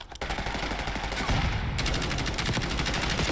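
Rapid gunfire from the tactical shooter game Insurgency Sandstorm, with a dense run of loud shots that grows heavier partway through, over a constant busy background.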